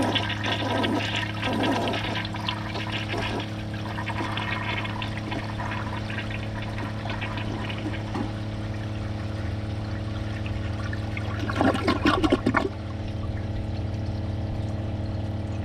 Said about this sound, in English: I'm going to give it a second flush after the tank is full.